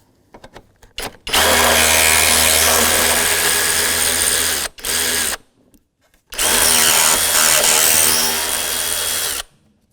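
A power tool driving out 10mm mounting bolts on a 2001-2007 Volvo V70 radiator fan shroud: two long, loud, steady whirring runs close up, separated by brief stutters and a short gap.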